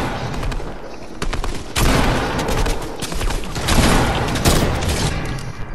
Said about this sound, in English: Oh, I shot your damn decoy.